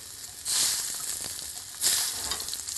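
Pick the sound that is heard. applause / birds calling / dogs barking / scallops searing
scallops searing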